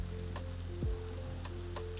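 Baby marrow and carrot fritters fry in a pan with a steady, soft sizzle and light crackle, close and alone with no talking.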